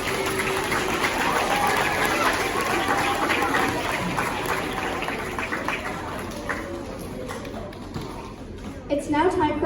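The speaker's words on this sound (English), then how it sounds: "Let's give them a huge round of applause." A school assembly crowd claps together in a dense, sustained burst of applause that gradually thins out toward the end, with children's voices mixed in.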